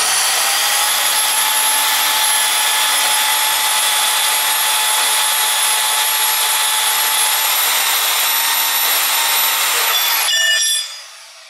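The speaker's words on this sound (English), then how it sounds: "So let's go ahead and cut our piece real quick. Won't take long. It's aluminum." A power saw cuts through an aluminum piece for a TIG welding project, a steady, loud, high-pitched whine with bright ringing overtones running unbroken for about ten seconds before spinning down and stopping.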